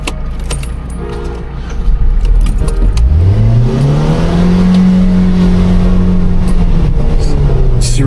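A Volvo V50 engine revs hard toward redline, a loud rising harmonic sweep that climbs quickly and then holds high and steady near the car, with faint clinking early on.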